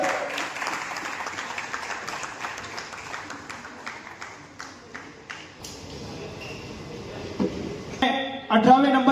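Enthusiastic applause at a political gathering announcing a core committee, a dense burst of many hands clapping that fades over several seconds before a voice speaks over a loudspeaker.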